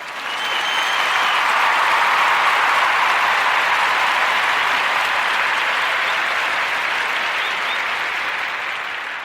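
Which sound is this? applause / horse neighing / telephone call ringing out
applause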